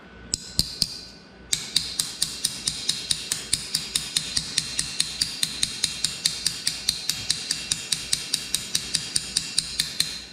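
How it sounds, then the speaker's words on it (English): The side of a steel rivet hammer strikes metal in a fast, even series of sharp ringing taps, dozens in a row after a few scattered opening hits, close and clear. "I could take the side of my rivet hammer"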